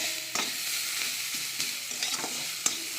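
Chopped green chili, onion, ginger and garlic hit hot oil in a wok, giving a steady close sizzle throughout with a few sharp stirring clicks and scrapes.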